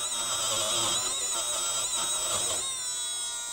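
Milwaukee M12 brushless rotary tool running at low RPM, giving a steady, loud, continuous motor whine with a bright buzzing edge that holds level throughout.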